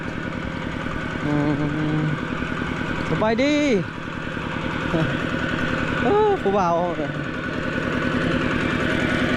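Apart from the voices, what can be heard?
tractor engine idling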